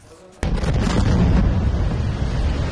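Explosions from an Israeli airstrike in Lebanon, caught in news footage: after a quiet start, a sudden loud blast breaks into a sustained, rumbling roar that carries on to the end.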